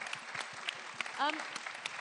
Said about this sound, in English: final round of applause for our winners and our judges